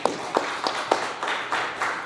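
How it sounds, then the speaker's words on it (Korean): Church congregation at a New Year thanksgiving worship service applauding a pastor, soft rhythmic claps in a steady pulse, roughly three per second, at a moderate distance. "한 박수로 경례합시다"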